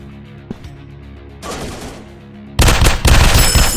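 A robot shooting game fires a faint early shot, then a rising burst and finally loud, sustained rapid gunfire close up.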